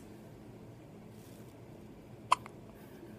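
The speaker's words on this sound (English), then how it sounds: "You got the hiccups." A single sharp hiccup lands near the middle of the clip, close and fairly loud, followed by a softer catch, with quiet room background otherwise.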